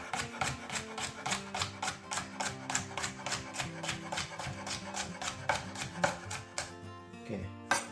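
A knife chops a trimmed spring onion on a board in quick, steady rhythmic cuts, close and crisp, ending with a brief pause and a softer clatter.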